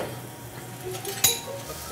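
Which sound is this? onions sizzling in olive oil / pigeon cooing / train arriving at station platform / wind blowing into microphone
onions sizzling in olive oil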